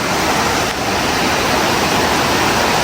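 Steady broadband rushing of flowing river water, continuous and fairly loud, with no voices or other distinct sounds.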